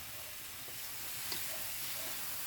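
Garlic, onion and ginger sauté together in a pan for papaitang baka, giving off a steady, faint sizzle and hiss with no speech.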